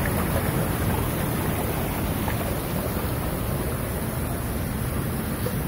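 Rushing water pours at the Duden waterfall in Antalya, a dense, continuous, loud roar with steady wind-like hiss and no breaks, no voices over it.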